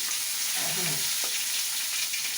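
Onion, garlic and ginger sautéing together in a pan give a steady low sizzle with a few soft stirring scrapes, close and moderately quiet, with no talking.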